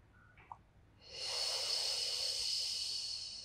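One slow, drawn-out exhale during a held Pilates tricep stretch, preceded by a small sniff and breath. It is soft and close, with a steady airy hiss lasting a couple of seconds and no talking.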